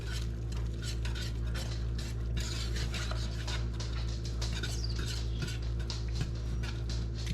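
Creamed chipped beef being stirred in a pan: continuous close scraping and clinking of a utensil against the pan over a low steady hum, no talking.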